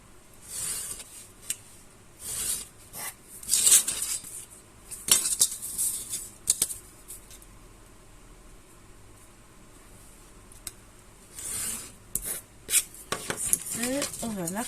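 Paper being cut with scissors while making a craft lamp: a series of crisp snips and rustling cuts in irregular bursts, close up, over a faint background hiss, without speech.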